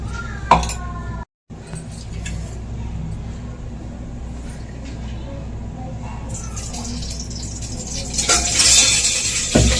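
Utensils clinking against a pot while bottle gourd cooks in ghee, scattered metallic clatter and scraping over a steady background hum, with a louder clatter near the end.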